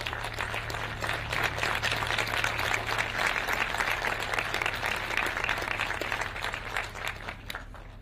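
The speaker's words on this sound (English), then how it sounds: "a round of applause" Sustained applause from an audience at the launch of an agricultural technology centre in Nairobi, many hands clapping steadily at moderate volume over a low background hum, tapering slightly at the end.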